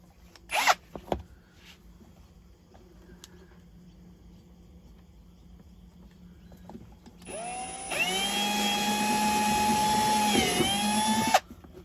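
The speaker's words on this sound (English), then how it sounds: "So I'm going to go and drill my hole quite far back, about there, into the housing." A couple of sharp clicks, then a power drill whines loudly and steadily for a few seconds, boring a hole into plastic accessory housing on a Toyota LandCruiser 100 Series, before stopping abruptly.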